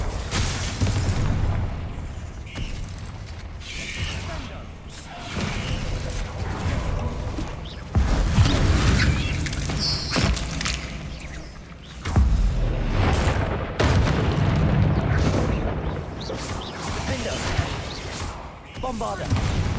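Bombarda blasting spell explosions in the Hogwarts Legacy video game, several loud booming bursts at irregular intervals amid combat clatter and mechanical noise, with spoken spell names between them.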